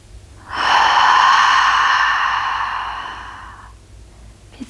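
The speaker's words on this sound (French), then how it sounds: "2 autres fois, inspire. Et expire." Long, loud breath through the mouth during a guided yoga exercise, one sustained airy exhale lasting about three seconds and fading out, with no talking.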